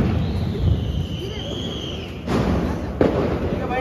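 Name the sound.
Diwali firecrackers going off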